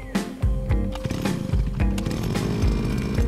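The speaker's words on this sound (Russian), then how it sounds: "Включаю зажигание, ставлю рычаг на холодный пуск и произвожу запуск." A Huter GGT-1000T gasoline grass trimmer engine starts on cold-start choke after winter, with a few brief pull-start sputters before it catches into a loud, buzzing two-stroke idle close by.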